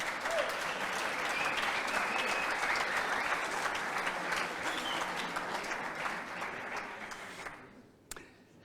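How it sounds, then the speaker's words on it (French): An audience at the opening ceremony of the Gordon Bennett gas balloon race applauds loudly and continuously, then the clapping fades out near the end. "On peut encore l'applaudir"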